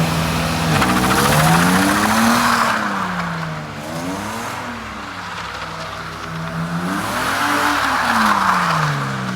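A car drifts in continuous donuts under throttle, tyres squealing in long wavering arcs that rise and fall with each rotation over a loud, revving engine, close up and sustained throughout.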